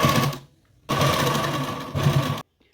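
A sewing machine stitches lace onto a garment neckline, running in two sustained bursts separated by a short pause, loud and close with no talking.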